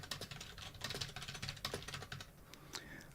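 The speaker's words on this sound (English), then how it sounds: "So we're just going to type in some text here" Rapid typing on a computer keyboard, a dense flurry of close, quiet key clicks that slows to a few scattered taps near the end.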